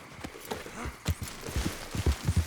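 Horse hooves clop in quick uneven beats as a horse gallops in the Red Dead Redemption 2 video game, close and fairly loud throughout.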